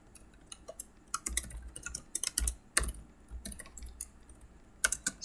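Typing on a computer keyboard while editing code in Vim: quiet, close key clicks in irregular bursts and short runs with brief pauses between.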